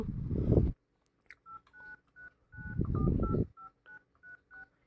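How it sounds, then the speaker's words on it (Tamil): An iPhone running iOS 18.2 dials a call, giving a quick string of short, evenly spaced keypad tones, clear and near, between stretches of noisy handling. "இப்போ வந்து என் நம்பருக்கு நான் கால் பண்ணுறேன்"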